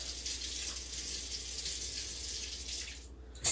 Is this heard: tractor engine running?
no